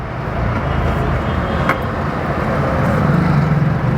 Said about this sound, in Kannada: ಈಗ ನೋಡಿ ಟಾಪ್ ಗೇರ್ ಹಾಕ್ತೀನಿ, ಸಾರಿ ಥರ್ಡ್ ಗೇರು.